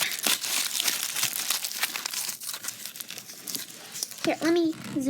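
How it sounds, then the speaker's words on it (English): Close, crinkly crumpling of foil in bursts of rustling and crackling, with a voice briefly heard near the end. "got the tin foil, and now we're just going to crumple it"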